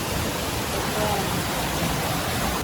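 A waterfall in the Bali countryside, a steady broadband rush of falling water that stays even and continuous throughout, heard from some distance.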